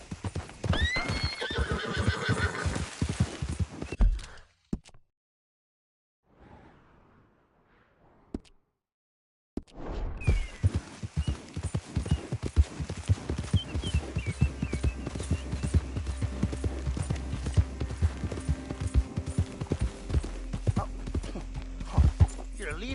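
A horse gallops and neighs in Red Dead Redemption 2, with loud close hoofbeats and a whinny early on, then a short quiet stretch before the steady galloping returns, with talk over part of it.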